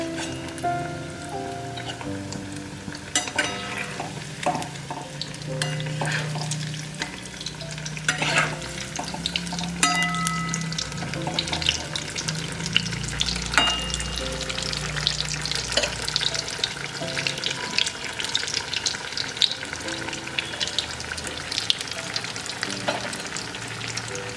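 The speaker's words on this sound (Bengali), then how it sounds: "পুরো দু পিঠ উল্টে পাল্টে হালকা লাল করে ভেজে নেব" Moong puli pithe fry in oil over a medium flame, a dense, crackling sizzle like rain on a surface, close and steady, with occasional utensil knocks as the pieces are flipped, no speech.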